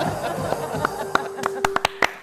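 A handful of sharp, separate hand claps ring out near the end, following talk and a brief sustained tone.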